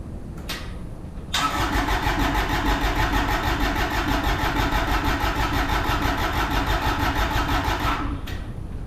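Kubota D1105 diesel in an RTV1100 utility vehicle cranks briefly, then catches and runs at a steady, loud, close idle for about seven seconds before cutting off, with no talking.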